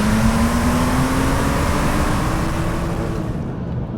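A BMW M635 CSi with a roughly 286 bhp straight-six pulls hard under acceleration, a loud continuous engine roar with a rising whine, heard close and alone without talk.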